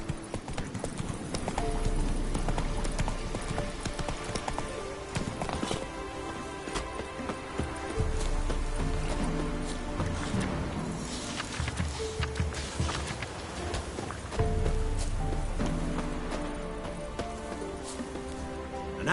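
A horse's hooves clip-clop quickly and steadily in a gallop in The Witcher 3: Wild Hunt, over a game soundtrack and ambient effects, with occasional stronger thuds.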